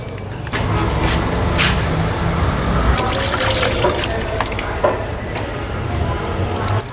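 Rui fish from the Karatoya river being washed clean in water, a steady wet trickling and sloshing with squishy handling sounds running throughout, close up, with a voice talking faintly over it.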